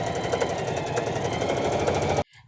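A sewing machine runs steadily, stitching fabric along the inseam of trousers with a fast, even mechanical chatter that is loud and close, then cuts off abruptly near the end, leaving a brief quiet tail.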